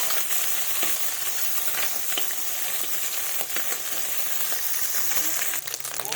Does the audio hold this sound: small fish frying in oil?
yes